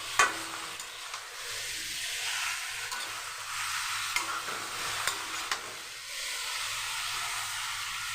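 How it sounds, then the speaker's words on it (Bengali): Masala chicken fries in a pan while being stirred, a close sizzling hiss overlaid with scraping strokes of the spoon and occasional soft knocks, steady throughout. "মাংসটা যাতে একটু ভালো করে কষিয়ে নেব"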